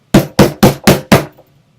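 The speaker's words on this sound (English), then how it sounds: "until someone was literally slamming on the door" Five heavy, evenly spaced slams pound against a door in quick succession, loud and close, each a booming thud that rings briefly before the next, followed by a faint rattle and then quiet.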